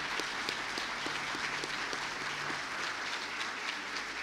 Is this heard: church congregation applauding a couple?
yes